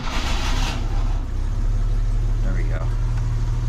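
Jeep engine idling steadily after starting, a low continuous rumble throughout, with a person speaking briefly over it.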